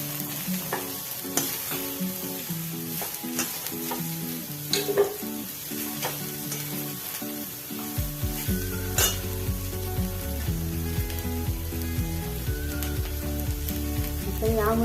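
Food frying and sizzling in a pan while it is stirred, with steady close-up sizzle, scraping and clinking throughout and a fuller, louder hiss in the second half.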